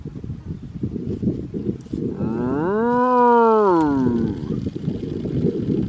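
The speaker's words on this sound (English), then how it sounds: "Can we hear a moo?" A single long, deep moo from a nearby cow rises and falls over rustling background noise, outdoors on a hiking trail in Florida.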